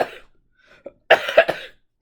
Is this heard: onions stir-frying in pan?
no